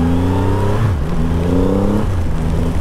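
Triumph Rocket 3 GT motorcycle engine under way, a loud steady drone whose pitch climbs through the gears with brief dips at each shift, close and continuous under wind noise with no talking.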